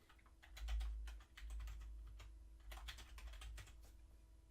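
Password typed on a computer keyboard: a quick run of close, crisp key clicks in uneven bursts over a low background hum, with no voices.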